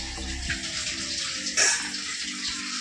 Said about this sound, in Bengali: এখন আবার কলের জল দিয়েছে সেই জলে কাজ করছে